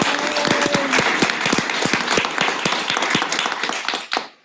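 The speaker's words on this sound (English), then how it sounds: "let's give a round of applause to Laura Burnett" Warm, sustained applause from a Guiding Eyes for the Blind graduation audience in Yorktown Heights, with sharp individual claps standing out, fading quickly at the end.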